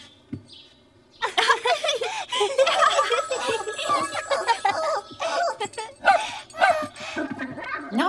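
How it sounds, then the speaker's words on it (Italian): A cartoon puppy yips and barks excitedly in quick bursts after a brief quiet start, close and lively, with a voice speaking in between. "Questo piccolo cucciolo fa così ogni volta che squilla il telefono."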